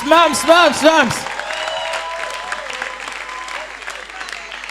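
An audience at a Gabonese New Year comedy show breaks into applause and cheers, starting with a few loud sung or shouted tones over the clapping, then settling into steady clapping that slowly thins.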